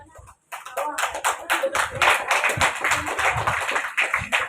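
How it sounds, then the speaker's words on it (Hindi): An audience at a government senior secondary school function in Udaipur claps to welcome the village sarpanch: dense, loud, continuous applause with many overlapping hand claps after a short pause. "तो जोरदार तालियां बजाकर सर का स्वागत अभिनंदन करावें।"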